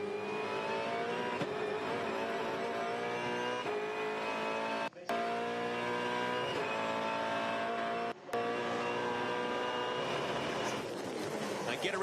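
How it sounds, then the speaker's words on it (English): From onboard a V8 Supercar racing at Albert Park, the engine drones at a constant high pitch and sits far in the background, with two brief dropouts as the car shifts gear and commentary faintly beneath. "Let's listen here on board with Whincup"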